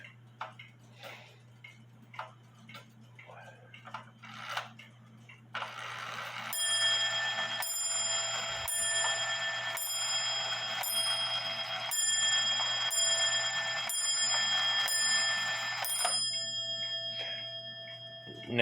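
An antique 1830 Black Forest shield grandfather clock ticking with a steady rhythm, then striking a long run of bright, ringing chimes one after another before the ticking carries on alone.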